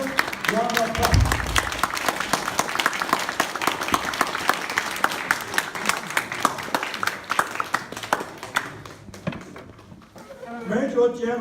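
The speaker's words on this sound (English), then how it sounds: "give the General Chen and the Chen family a well-deserved round of applause" Audience applause at a formal tribute to a retired major general and his family, with strong clapping from a crowd continuing through most of the stretch before fading, and a voice speaking briefly at the start and again at the end.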